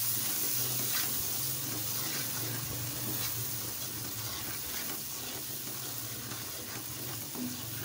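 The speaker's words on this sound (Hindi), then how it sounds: "चलें अब थोड़ा सा पानी डाल देते हैं इसमें।" Water pours into a hot pan of spices, making a steady rushing hiss with sizzling that continues unbroken for several seconds.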